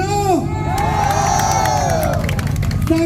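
A crowd cheers and shouts with whoops and some children's voices at a truck modification meet-up in Batusangkar, Tanah Datar, a steady loud roar filling the whole moment with only light clapping.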